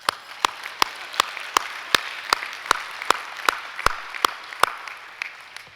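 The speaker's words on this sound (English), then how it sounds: "That's worth an applause." Sparse, evenly spaced claps, roughly three per second, sharp and distinct over a soft background murmur at a business awards opening ceremony.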